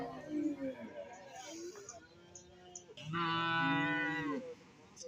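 Buffalo calves and cattle at a livestock market, with loud drawn-out moos near and in the background, one long bellow near the end, over crowd chatter and talk.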